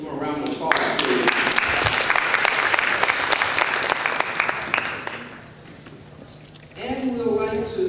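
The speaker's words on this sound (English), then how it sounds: "Give them a round of applause, please." Loud, dense audience applause at a mayoral debate in Fillmore, sustained for about five seconds before fading, then a voice begins speaking.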